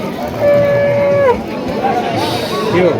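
Cattle moo loudly at close range at a rural cattle market in Bangladesh, one long low call followed by shorter wavering moos, over a steady murmur of crowd noise.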